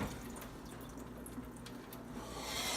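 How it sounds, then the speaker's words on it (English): Cold tap water runs steadily over quinoa in a strainer, a faint continuous rush with small drips and splashes that swells slightly toward the end. "I'm gonna just put it in the strainer and rinse it under the cold water just for a little bit."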